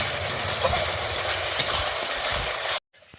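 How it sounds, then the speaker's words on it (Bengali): Spice paste fries in oil as it is stirred for a Bengali potol posto dish, making a loud continuous sizzle with scraping stirs that cuts off abruptly near the end, with no voices. "এভাবে আমি নেড়ে নেবো যতক্ষণ না তেল বেরোয়"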